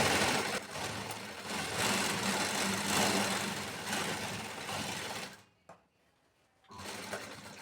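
A sewing machine stitching a lined blouse runs in a loud, fast buzzing stream for about five seconds, stops briefly, then starts again, close up with no speech.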